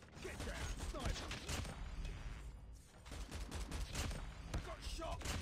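COD Mobile shooter gameplay with dense, rapid bursts of gunfire and clicking weapon mechanics. The shots run almost continuously, with a short lull in the middle.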